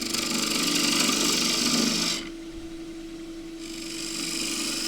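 A bowl gouge cuts green Osage orange wood spinning on a lathe, giving a steady, close shaving hiss over the motor's hum; the cut drops out for about a second and a half, then resumes.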